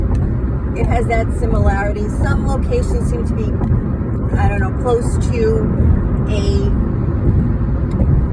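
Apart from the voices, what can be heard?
road traffic in the background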